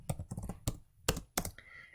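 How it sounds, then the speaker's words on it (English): A few bursts of keyboard typing on a computer, entering a café menu item, with clustered clicks separated by short pauses, close and fairly quiet, no speech. "So I'm going to type creme, which it does it automatically"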